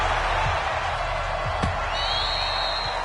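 A stadium crowd in an NFL football video game roars in a dense, steady wash of cheering, with faint thumps and a high whistle-like tone rising partway through.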